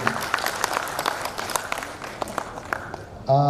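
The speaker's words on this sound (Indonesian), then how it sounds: "Tepuk tangan untuk Pradin." Audience applause at the 2025 national working meeting of the Peradin advocates' association in Jakarta. Steady, dense clapping fills the room for about three seconds before a voice begins speaking at the very end.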